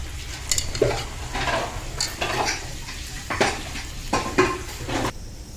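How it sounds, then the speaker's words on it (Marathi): Pots, pans and dishes being handled and washed in a home kitchen, with repeated clinks and clatters at an irregular rhythm over a low continuous background. "आवाज तुम्हाला खूप येत असेल भांड्यांचा"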